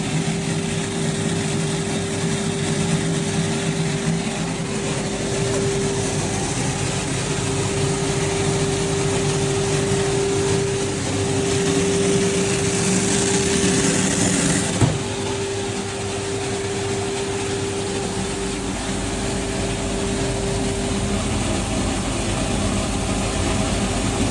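A small sortex machine sorting moong dal runs with a steady mechanical hum and a fixed tonal whine, constant and fairly loud, with a brief clunk partway through and no talking.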